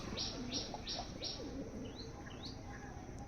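Pigeons in a loft, with several bright, repeated chirps and short calls spread across the clip over a steady background murmur of birds.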